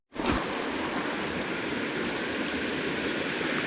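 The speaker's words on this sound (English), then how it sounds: "beautiful little pool at the base of these rapids." Water rushes steadily over rapids into a pool, a loud, continuous broadband roar that starts abruptly and holds without pause.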